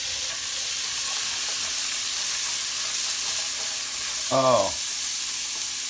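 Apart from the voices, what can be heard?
carrots and onions sauteing in sausage grease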